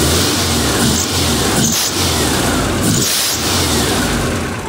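A running car engine with a loose alternator belt, loud and steady throughout, with a high squeal that swells briefly twice over the engine's drone.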